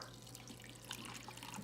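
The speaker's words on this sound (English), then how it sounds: "Let's just fill this up with water." Running tap water pours steadily into a tea brewer at a sink, a faint continuous splashing with a low steady hum underneath.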